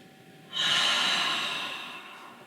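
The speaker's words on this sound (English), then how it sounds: "we're going to take some deep breaths" A deep breath taken during a seated shoulder stretch, one long airy inhale that starts abruptly, swells loudly close to the mic and then slowly fades as it is held and released, with no talking.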